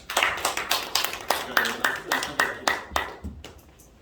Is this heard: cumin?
no